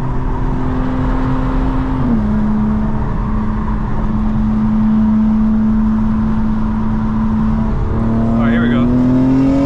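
Stage 2 tuned 2025 BMW M4 Competition xDrive making around 800 horsepower, its engine droning steadily from inside the cabin on a highway and rising in pitch as it accelerates toward the end, with a voice speaking briefly at the start.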